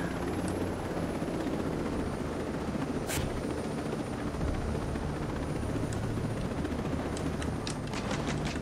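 Helicopter in the video game Ghost Recon Breakpoint, a steady loud rotor drone and engine rumble running throughout, with a few brief sharper bursts on top.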